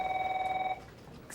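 A telephone rings with a steady electronic trill for under a second, then stops, and a faint room tone follows.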